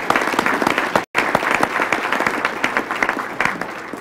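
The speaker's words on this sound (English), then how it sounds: "please give her a round of applause" A full room of guests at a law school alumni dinner and awards presentation breaks into steady applause, dense overlapping claps continuing for about four seconds, with one brief cut partway through.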